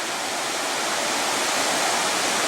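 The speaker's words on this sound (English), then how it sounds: "There's another little waterfall." A small waterfall at Sol Duc Falls in Olympic National Park rushes in a steady, dense hiss that stays even and fairly close throughout, with no voices.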